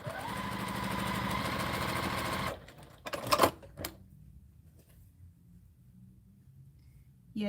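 A sewing machine runs at a steady fast stitch for about two and a half seconds, then stops with a few mechanical clunks and a quiet hum afterward.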